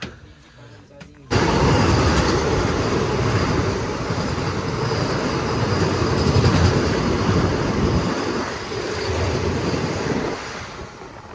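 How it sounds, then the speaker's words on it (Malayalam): A Vande Bharat Express train rushes past close by in a loud, sustained roar of wheels and rail noise that begins abruptly and fades slightly near the end. "ബംഗളൂരു ചെന്നൈ മൈസൂരു ചെന്നൈ വന്ദേ ഭാരത് എക്സ്പ്രസ് ആണ് കേട്ടോ പോയത്"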